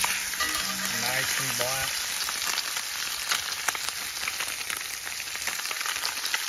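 Blackened crappie fillets sizzle and fry steadily on a rocket stove outdoors, a dense continuous crackle with a brief voice speaking early on.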